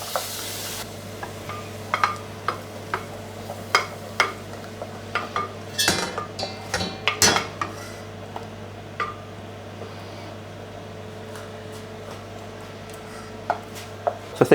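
Single cream being stirred into icing in a bowl for a 100-year-old-recipe birthday cake: a spoon clinks and scrapes against the bowl in irregular taps over a steady low hum, with a louder cluster of knocks midway.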